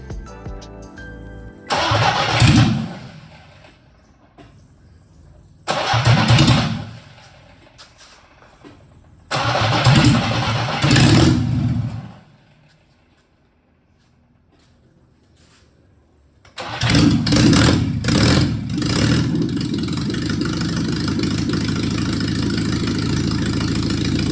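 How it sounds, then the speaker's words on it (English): A 1960 Alfa Romeo Touring Spider engine, first start in 50 years, cranks and coughs in several loud bursts separated by pauses, then catches and settles into a steady, rumbling idle in a garage. "we're now ready to start the engine for the very first time"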